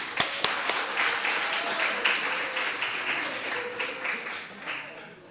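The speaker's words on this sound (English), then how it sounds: "Give yourself a round of applause" Audience applause at the CPUT Live Radio launch, a steady patter of clapping with a few sharp nearby claps at the start, sustained for several seconds at moderate level with faint voices mixed in.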